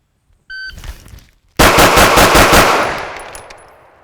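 A shooter on a range works the first shot from the start signal: a short electronic beep sounds, then a fast, loud string of gunshots rings out close by.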